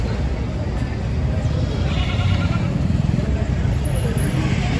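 Male goats bleat amid a dense, noisy crowd at a goat market in Mohol, with voices and general market clamor running underneath throughout.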